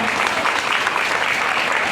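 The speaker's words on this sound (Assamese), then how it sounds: "এই কণমানিজনৰ কাৰণে আমি হাত চাপৰি বিচাৰিছোঁ" An audience applauds a young child's speech with dense, steady clapping that fills the whole short moment, loud and close.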